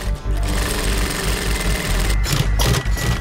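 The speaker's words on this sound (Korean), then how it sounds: "몸무게에 눌리고 당겨져도 설기가 터지지 않도록 재봉틀로 단단히 바느질을 합니다." Twin-needle sewing machine stitching a car seat cover, a loud, close, continuous rapid mechanical hammering with brief pauses near the end.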